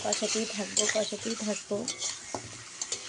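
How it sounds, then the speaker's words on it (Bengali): Chicken is stirred into a spice masala in a pan, giving a steady sizzle with scraping and stirring clatter. Someone talks over the cooking. "চিকেন দিয়ে দিলাম, চিকেন এই কষাতেই থাকবো"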